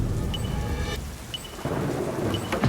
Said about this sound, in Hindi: ये बारिश इसे बहुत ड्रामेटिक बना रही है।